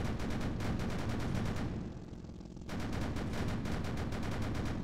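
A 20mm cannon firing in the tank game Sprocket, loud rapid repeating shots in a steady stream that pause briefly midway and then resume at the same pace.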